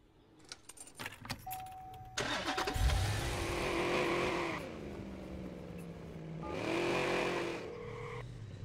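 Truck in Watch Dogs: keys jangle, then the engine cranks and catches, revs up and settles to a steady idle before revving again, close and clear with no talk.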